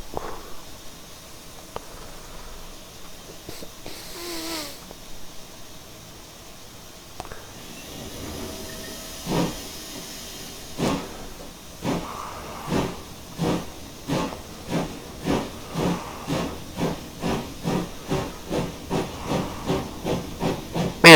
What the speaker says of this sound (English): Really nice shuff sounds.